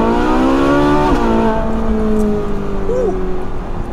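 A Ferrari 458 Speciale Aperta with its naturally aspirated engine revs hard and close, its pitch climbing steadily and dipping briefly between pulls. The engine note stays loud and continuous, with a short upward flick near the end.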